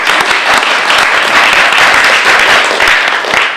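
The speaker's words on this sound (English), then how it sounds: "I think a round of applause for the rest of the team." Loud, close applause from a conference audience at a rare disease showcase, dense clapping hands filling the whole few seconds with no pause.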